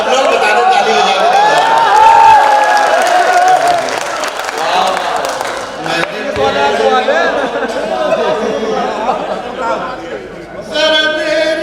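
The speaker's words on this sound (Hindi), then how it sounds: "सब लोग बता दो, ताली बजा दो।" A crowd at an Urdu poetry mushaira applauds in a long, loud wash of clapping and chatter that swells and fades, with a voice speaking over it near the end.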